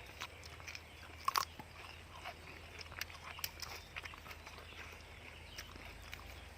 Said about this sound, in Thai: กินแต่หัวเลยตอนนี้หัวมันกรอบทุกคน